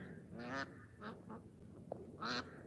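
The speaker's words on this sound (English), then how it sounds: "The ducks are fighting." Ducks fight outdoors in a garden setting, with several loud, harsh honking squawks and quacks in irregular bursts amid a low background rumble, and no talk.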